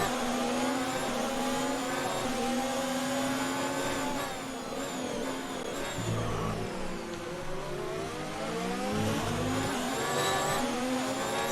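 A Ferrari F1 car in F1 2019 at Bahrain, its engine screaming and shifting pitch as the rear tyres spin up, with two brief low thumps partway through, loud and continuous with no talk.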